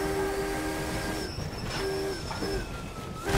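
A video game train horn honks in sustained tonal blasts, one long note then shorter repeated toots, over a continuous rumbling rail and engine noise.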